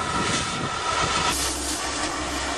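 A Buick's modified, crudely altered exhaust rumbles loudly and steadily throughout, a continuous low drone with a coarse, airy roar on top and no talking.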